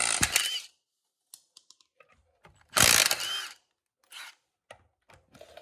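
A tool loosens the rear wheel nuts of a Polaris Ranger XP in close, loud bursts of rapid mechanical whirring and ratcheting. Sharp clicks and metal clinks of nuts and handling fill the gaps between the bursts.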